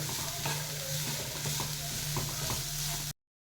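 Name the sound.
beans frying in oil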